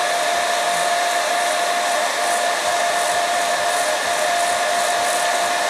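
A heat gun blows hot air in a steady, loud, continuous roar with a constant whine throughout, used to heat a Spektrum DX5e transmitter and AR500 receiver in a heat test.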